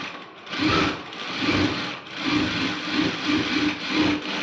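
A sewing machine stitches the side seam of a blouse, a close, steady whirring hum in short bursts with brief pauses between runs.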